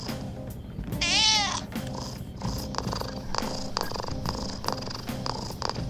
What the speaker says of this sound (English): If I rub the touchpad over with my finger, it makes like a purring noise.